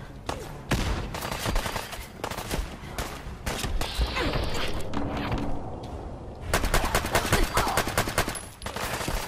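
Fallout 4 gunfire in a street fight, rapid automatic bursts and single shots, loud and close, pausing briefly and then resuming, with voices shouting between volleys.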